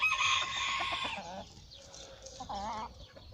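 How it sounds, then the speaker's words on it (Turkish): Two Denizli roosters fighting squawk and cluck close by, with agitated, wavering cries and a brief crowing call, fairly faint overall. "Denizli horozlar çok narin."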